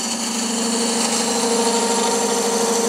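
A wood lathe runs steadily as a spindle gouge rolls a half bead, giving a continuous whirring hum with tonal whine and faint cutting texture, no speech.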